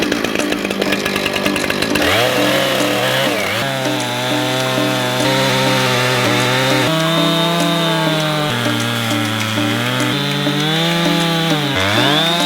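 A chainsaw slabs a cypress log down to a one-inch board, its engine snarling steadily under load with pitch dips and recoveries as the bar cuts through the wood, loud and continuous.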